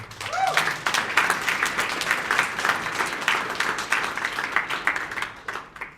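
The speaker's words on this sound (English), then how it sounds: "I think they need a round of applause" Applause from an audience at a business index book launch event, a steady dense clapping that stays loud and close throughout, with a brief voice near the start.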